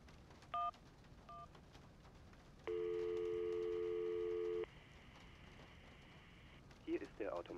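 An unanswered phone call in the video game Syberia: a few short dialing tones, then a steady electronic ring tone holding for about two seconds, clean and moderately loud, followed by a faint voice starting at the end.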